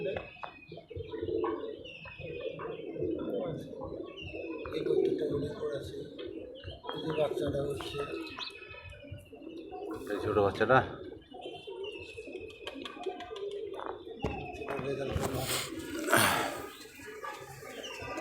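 Pigeons coo repeatedly in a busy flock in a loft, soft throaty calls overlapping with occasional flutters and clatters nearby, with someone talking at times.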